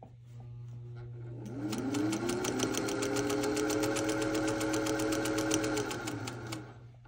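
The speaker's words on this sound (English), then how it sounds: "So I'm gonna go ahead and get started with sewing down that inseam." A vintage Singer 201 sewing machine stitching a pajama pants inseam winds up into a steady, fast mechanical whir with even rapid clicking, holding for several seconds before slowing and stopping, close and alone over a low background hum.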